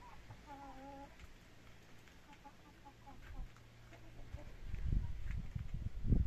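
Free-range hens cluck in short, scattered calls close by, with a few drawn-out clucks early on, while rain or handling noises grow louder toward the end.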